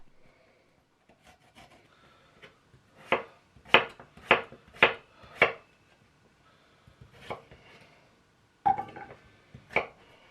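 Fresh ginger is rubbed against a grater in a home kitchen, giving a series of short rasping strokes in quick bursts with pauses between them, close and fairly quiet.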